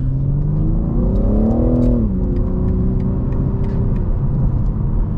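A new BMW M3 engine revs up with a rising tone, dips sharply as the stock paddle shifter changes gear, then settles into a steady rumbling drone, loud and close.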